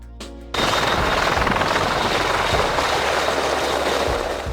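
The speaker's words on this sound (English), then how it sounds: "Search and rescue helicopter." A search and rescue helicopter roars loud and close with steady rotor chop and a broad engine wash, starting abruptly after a brief quieter opening and holding constant throughout.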